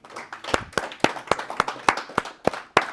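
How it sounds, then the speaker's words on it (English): A few people in a church congregation clap in sparse, distinct, fairly close claps spread across a few seconds, only loosely in rhythm. "Let's give Dre another round of applause for bearing his soul."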